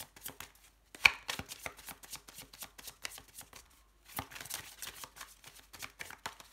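Tarot cards being shuffled by hand: a run of soft, rapid papery riffles and flicks, close and fairly quiet, with a brief pause before another burst of shuffling.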